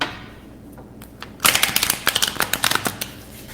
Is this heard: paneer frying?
no